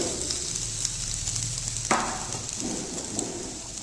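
Paneer tikka pieces go into smoking-hot oil with a steady hiss and crackle, the sizzle surging sharply midway as more food hits the pan and then continuing at a moderate level.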